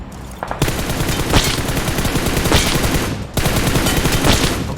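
Rapid automatic gunfire in the mobile shooter PUBG Mobile, dense bursts of loud close shots with a couple of short pauses between volleys.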